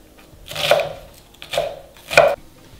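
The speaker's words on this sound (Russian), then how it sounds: "Разрезаю лук пополам и нарезаю кубиком." A knife dices onion on a cutting board, three crisp separate chops spaced under a second apart, close and clear with no talking.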